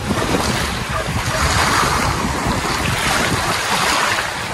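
Rough, storm-stirred sea surging against a seawall along a baywalk in Padre Burgos, Quezon, a loud steady rush of water and surf with wind buffeting the microphone, close and unbroken.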